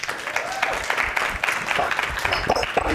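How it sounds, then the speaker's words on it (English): Audience applause at an outdoor beach pitch competition event, uneven and mid-level, with cheers and voices mixed into the clapping throughout. "Give her another round of applause."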